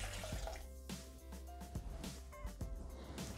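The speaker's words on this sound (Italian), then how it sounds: "Aggiungere l'acqua" Water poured into a Thermomix bowl while cooking pasta with chickpeas, a continuous gurgling and splashing stream with faint drips, close by against a steady low hum.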